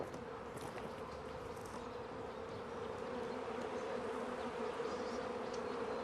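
Bees buzzing thickly around a hive being raided by a black bear, a steady dense drone that swells slightly louder toward the end, with no talk over it.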